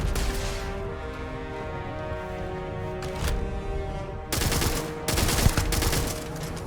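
Sustained gunfire in the video game Starfield, a loud continuous rattle of automatic weapons with sharper bursts building toward the end, heard alone without talk.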